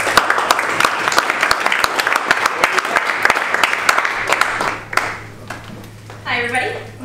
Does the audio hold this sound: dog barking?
no